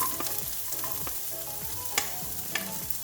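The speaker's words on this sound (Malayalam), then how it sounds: "ഓയിൽ ചൂടാകുമ്പോൾ കട്ട് ചെയ്ത് വെച്ചേക്കുന്ന സവാള ഇട്ട് കൊടുക്കാം" Sliced onions fry in hot oil in a pan with a dense, crackling sizzle that carries on without a break, broken by a few sharp stirring scrapes and taps.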